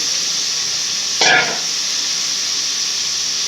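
Mutton pieces dropped into a hot pan give a short, sharp burst of sizzling hiss lasting a fraction of a second, then fade into a steady background hiss.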